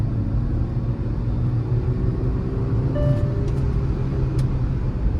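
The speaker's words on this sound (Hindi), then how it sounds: "अभी मैं आपको इसके एक्सेलरेशन वाला साउंड सुनाता हूँ" Hyundai Exter car engine after servicing, revving under acceleration as a steady, loud low rumble that holds throughout with faint road noise and no talking.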